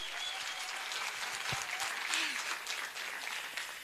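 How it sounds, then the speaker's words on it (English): Audience members at a graduation ceremony clap steadily for a few seconds, a moderately quiet patter with faint crowd voices underneath. "Can you please clap hands for him?"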